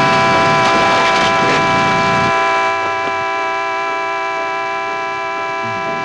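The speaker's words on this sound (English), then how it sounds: "Hey, there's somebody out here honking his horn." A car horn blares as a loud, sustained multi-tone honk that lasts about two seconds, then holds on at a lower level with a faint steady tone.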